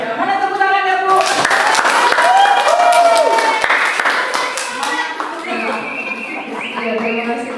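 Audience applause breaks out for the first invited speaker at an Indonesian teachers' session, a dense burst of clapping that fades after a few seconds while a voice talks over it and continues alone.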